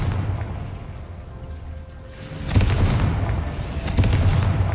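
A Confringo fire spell explodes in the Hogwarts Legacy video game, a sharp blast followed by a rumbling burst, then a second boom, loud and booming over a low background hum.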